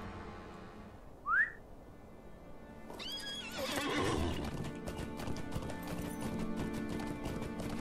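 A horse in the Lord of the Rings Online video game gives a short whistle-like call, then loud neighing and a steady run of clip-clopping hooves continues under game sounds, fairly close.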